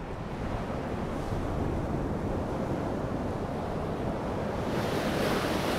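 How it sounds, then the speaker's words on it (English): Ocean waves rush onto the shore in a steady, loud wash of surf, with wind buffeting the microphone throughout and no voices. "Big wave coming in, lots of rushing water."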